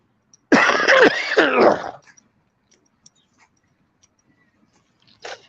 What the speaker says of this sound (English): have to watch for my cough